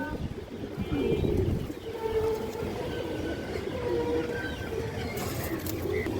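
Pigeons cooing softly beneath a steady low rumble that resembles a passing train, with faint chirps and rustles throughout; no clear voice stands out.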